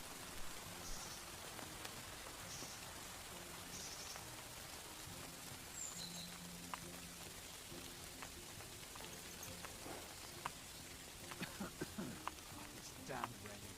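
Steady, soft rain patters in the video game Kingdom Come: Deliverance, a constant hiss of drops with a few sharper splashes and faint background sounds near the end.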